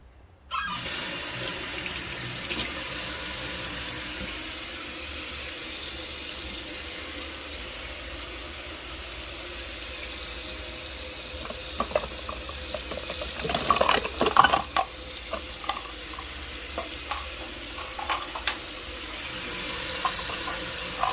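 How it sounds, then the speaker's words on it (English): Hot water runs from a kitchen tap into a bowl of dry pizza dough ingredients, a steady hiss of flow with brief splashing and clatter near the middle, and no talking. "And now I'm gonna go for some hot water here."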